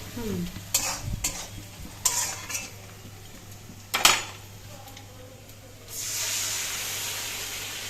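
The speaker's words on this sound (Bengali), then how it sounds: "এখন শুধু মশলা কষিয়ে মানে মাংস কষানো হবে" Marinated meat is stir-fried with spices in a pan. Scattered scraping stirs and clinks of a spoon against metal sit over a low sizzle, which swells into a steady hiss near the end.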